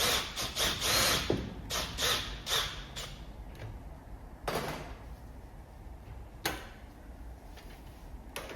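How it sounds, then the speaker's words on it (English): Impact gun spinning off the Keco K-Power dent puller to release its lateral tension on a car door dent, heard as several short, close bursts of rattling mechanical whirr separated by pauses, with no talking. "Just using the impact gun again to release it, take the tension off."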